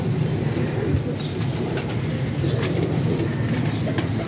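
A pigeon coos softly among other birds in a pigeon loft, the calls blending into a busy continuous background of bird noise with some sharper chirps, no speech.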